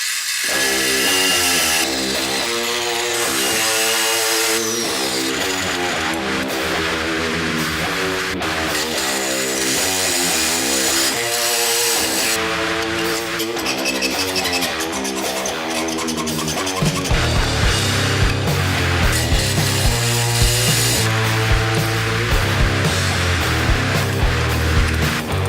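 A power tool with a cutting disc grinds a rough shape out of a metal saw blade, a loud, harsh, continuous whine that deepens into a heavier roar partway through.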